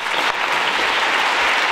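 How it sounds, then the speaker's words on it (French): Steady applause from an audience in a hall, many hands clapping densely and evenly at close range, with no voices over it. "je voulais pouvoir applaudir cette femme, Cheikha Fouskara"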